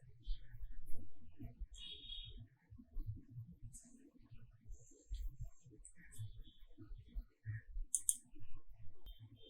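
Computer keyboard typing and mouse clicks while entering an OTP on a government portal, scattered light clicks under someone speaking Tamil throughout.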